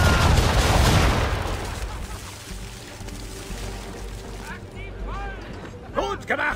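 Cannon broadside from a frigate in Assassin's Creed III firing round shot: loud booming blasts with rumbling echo at the start, fading into ship ambience, with shouted voices and calls near the end.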